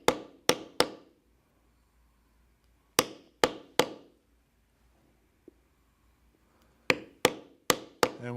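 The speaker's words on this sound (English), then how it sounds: "Next, I will use a border stamp to stamp inside in the area where we just beveled." A metal border stamp struck with a mallet into leather, sharp close knocks in quick bursts of three, then four, then five, separated by quiet pauses and a faint tap.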